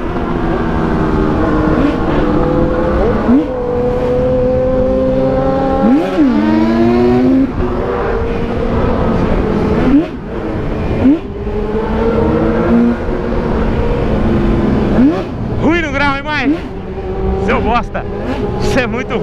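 Loud motorcycles, including an XJ6, CB1000 and Hornet, revving and accelerating in city traffic, their engine notes climbing and dropping through repeated gear changes up close, with a rider's voice over the noise.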